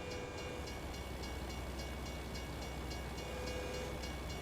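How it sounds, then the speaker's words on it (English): Train rolling past a small town in American Truck Simulator, a steady low rumble with faint rhythmic bell-like pulses held at a distance for several seconds, no talking. "the train's passing by, I can hear the bells from here"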